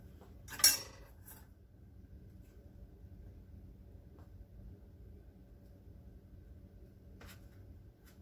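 A metal spoon knocks once against a pot while two spoonfuls of cocoa go in for homemade hot chocolate, a single clear clink near the start and a faint tap later, over a low steady room hum.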